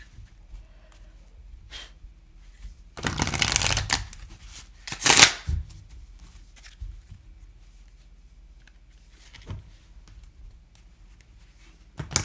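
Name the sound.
shuffling a modded oracle card deck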